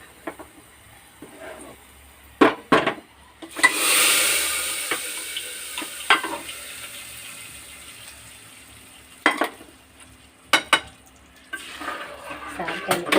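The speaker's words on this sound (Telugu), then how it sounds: "తాలింపు వేసేస్తాను." A fried tempering poured into cooked dal in a pot, with a loud sizzle burst followed by scraping and stirring clinks of a spoon against the pot, close and intermittent.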